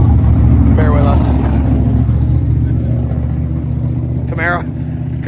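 A Chevrolet Camaro at a drag-and-drive event in New York rumbles loudly with a deep, steady engine growl that eases slightly over a few seconds, with brief outdoor voices or squeaks heard over it.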